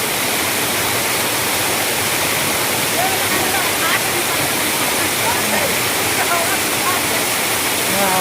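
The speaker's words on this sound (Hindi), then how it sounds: "और देख सकते हो वाटरफॉल के नज़ारा" Waterfall pouring steadily nearby, a loud continuous broadband roar of falling water throughout, with faint voices partly buried under it.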